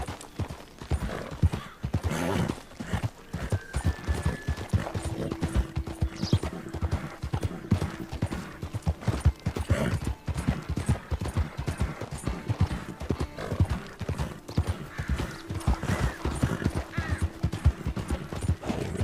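Rhythmic clip-clop of horse hooves galloping steadily and close in Red Dead Redemption 2, continuing throughout with occasional brief tonal game sounds over it.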